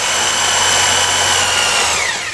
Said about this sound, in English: And it's a sturdy industrial drill.